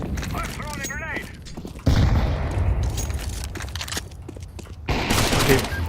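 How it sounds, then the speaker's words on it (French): A grenade goes off in Counter-Strike 2 with a sudden loud blast and a roaring rush that lingers for seconds, followed by a second heavy burst amid game combat noise, while players talk over it. "I'm throwing a grenade!"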